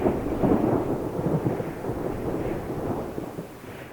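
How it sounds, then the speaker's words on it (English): A heavy thunderstorm in the early morning on Kangaroo Island, with deep rolling thunder rumbling continuously over a wash of rain. "we were woken up to the most amazing thunderstorm"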